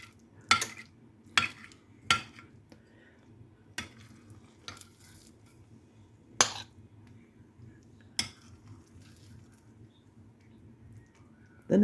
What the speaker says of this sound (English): Kind of stir some of that bacon grease around in there.